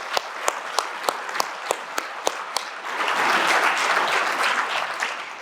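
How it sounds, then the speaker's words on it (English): An audience at a chamber of commerce Citizen of the Year awards event claps: a few sharp, evenly spaced single claps at first, then a full, steady round of crowd applause. "Let's give them a round of applause, please."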